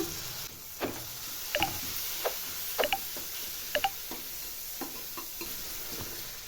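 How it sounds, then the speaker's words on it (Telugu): Chopped tomato going into frying onions with turmeric, a soft continuous sizzle broken by scattered stirring taps and scrapes of a spoon in the pan. "ఆనియన్ రెడ్ అయిందని టమాటా వేసేస్తున్నా."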